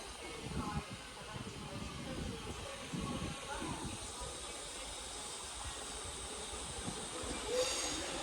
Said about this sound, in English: here comes another Northern 323